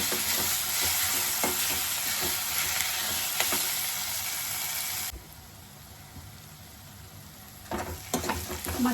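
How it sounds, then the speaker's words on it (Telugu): Ginger garlic paste and onions sizzle steadily in a pan with intermittent stirring scrapes, loud and close for about five seconds before the frying drops quieter, then renewed stirring clatters near the end; no one speaks. "అల్లం వెల్లుల్లి పేస్ట్ కొంచెం పచ్చివాసన పోయే వరకు"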